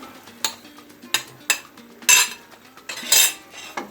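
A metal utensil scrapes and taps against a pan in a steady, irregular rhythm while five chopped roasted eggplants are mashed and stirred.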